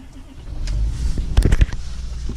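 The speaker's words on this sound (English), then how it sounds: "let's get a cold start on her, huh?" A 2019 Chevy truck engine cranks and catches on a cold start, with a few sharp bursts as it fires up, then settles into a rough, steady running rumble.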